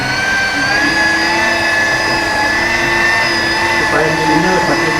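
A rotary car polishing machine runs close and loud with a steady tonal whine that rises slightly as it speeds up during paint polishing, under a man's spoken instruction.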